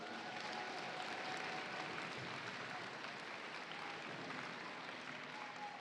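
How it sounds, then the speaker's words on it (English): Sustained applause from an audience honoring volunteers at a FIRST Tech Challenge robotics state championship awards ceremony in Oregon: steady, dense clapping from a large crowd filling the whole stretch without a break. "please give a big round of applause to our volunteers"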